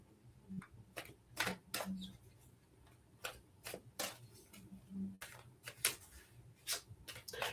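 Tarot cards are shuffled by hand, producing quiet, crisp snapping and tapping clicks in irregular bursts, close up in an otherwise hushed room.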